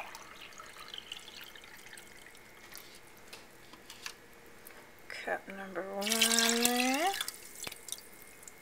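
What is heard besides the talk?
two cups of water poured into a pot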